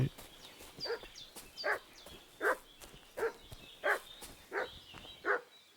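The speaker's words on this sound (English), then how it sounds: "What's that dog making such a fuss about?" A dog in the game Kingdom Come: Deliverance II barks in a steady, evenly spaced series of about eight moderately distant woofs over faint ambient sound.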